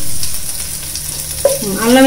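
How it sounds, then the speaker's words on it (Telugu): Ginger garlic paste fries in hot oil in a pan for veg fried rice, a steady close sizzle with stirring, plus a brief scrape partway through and a louder sizzle building at the end. "అల్లం వెల్లుల్లిపాయ వేగిపోయిందండి."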